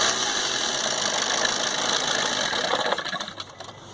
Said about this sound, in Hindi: देखिए दोस्तों, एक्सीलेटर दे रहे हैं